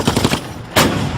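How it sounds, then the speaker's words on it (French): An MG-34 machine gun fires a short rapid burst of several shots, followed by a single heavier blast, loud and close in a World War II battle reenactment at the Remagen bridge. "Les hommes de Burroughs sont toujours bloqués par la MG-34"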